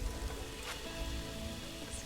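Steady rain falling in the zoo-building video game Planet Zoo, a continuous even hiss of drops at moderate level with no pauses and no talk.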